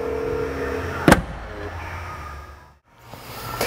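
A motorized power trunk lid on a Rolls-Royce Phantom hums as it closes, with a sharp click partway through and a low mechanical whir before everything briefly goes quiet.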